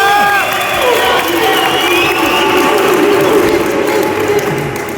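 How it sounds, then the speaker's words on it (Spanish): Loud prison audience at the Santa Martha penitentiary in Mexico City cheering and applauding, a dense roar of clapping, shouts and whoops close by that holds steady for several seconds. "¡Un aplauso!"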